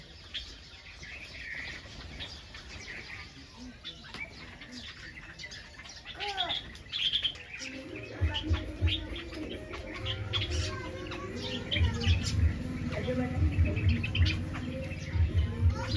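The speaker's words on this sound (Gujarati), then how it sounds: "તો ચકલા આવી ગયા છે." Sparrows and other small birds chirp and tweet in quick, scattered bursts while feeding on scattered sev, growing busier and louder partway through, with a low cooing murmur underneath.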